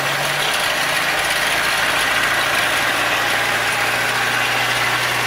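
A Ferrari 720 engine idles steadily and loud, a constant close rumble with no talking.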